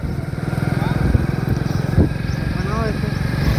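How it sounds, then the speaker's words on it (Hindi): A Hero Splendor motorcycle ridden along a rural road past fields and woodland, its small engine droning steadily with a low throbbing rhythm while voices talk over it. "बाइक से तो जा ही रहे हैं वो भी स्प्लेंडर से जा रहे हैं"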